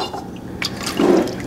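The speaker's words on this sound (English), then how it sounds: "Next, we are going to add 3 quarts or 12 cups of water." Filtered water poured into a pot for vegetable pho broth, a brief close splash and gurgle of liquid rising near the end over a faint background hum.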